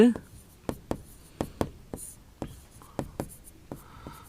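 Chalk or marker strokes on a board during a Hindi grammar lesson on prefixes and suffixes, heard as a string of sharp taps and scrapes in an uneven rhythm, close and clear, with quiet room sound between them.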